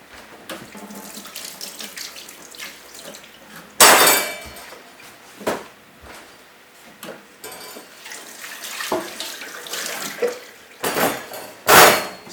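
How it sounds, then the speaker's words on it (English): Dishes and pots get washed up in a home kitchen sink under a running tap, with water splashing and occasional sharp clanks of metal and glass knocking together. "Excuse me while I wash a few things up while I'm working."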